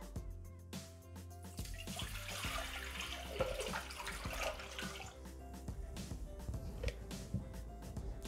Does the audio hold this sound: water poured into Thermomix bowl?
yes